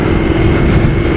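Triumph Thruxton R motorcycle engine while riding, a loud steady low drone with wind rush, continuous and unbroken throughout.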